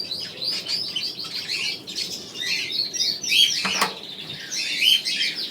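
Many birds in an aviary chirp, tweet and squawk together in a steady, lively chorus, with occasional wing flaps and one brief louder burst near the end.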